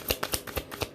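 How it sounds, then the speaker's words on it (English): Tarot cards are shuffled close up in a steady, even rhythm, each pass making a short papery swish and tap, repeated about five times in a second. "today I'm shuffling up the cards"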